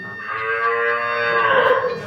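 A dairy cow at a cattle market gives one long, loud, sustained moo lasting about two seconds, close by and heard alone.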